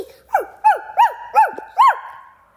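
Five clear, evenly spaced barks from a dog in the video game Toca Life World, close and loud, with silence between them.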